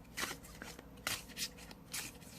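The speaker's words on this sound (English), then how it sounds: "I just hit it with that overhand shuffle." Tarot cards are shuffled overhand in close-up, giving several soft, crisp riffling swishes and papery slaps in irregular bursts, quiet and near.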